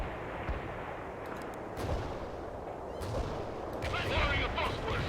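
Tank cannon fire and explosions in the Cold War strategy game World in Conflict: a continuous rumble of heavy booms and battle noise, with sharper blasts rising near the end.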